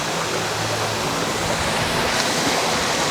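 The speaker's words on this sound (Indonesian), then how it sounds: "Ini air terjun" The Tanjung Suari waterfall roars loudly and constantly, a thick, unbroken rush of falling water close by, below a limestone forest.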